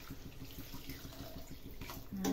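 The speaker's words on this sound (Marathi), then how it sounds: "हलवून झाली, पाणी टाकू त्याच्यात" Water is poured into a cooking pot of wild leafy greens, a soft continuous splashing trickle that swells louder toward the end, faint and close with no talking.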